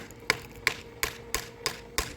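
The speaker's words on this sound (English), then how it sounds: "I've been hitting it with the hammer" Six sharp hammer blows strike delaminated concrete in a pool at a steady, unhurried pace, each a crisp knock with a short ring.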